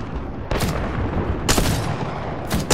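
Gunfire in the video game Apex Legends: three sharp, loud shots spaced about a second apart over a steady background of game noise.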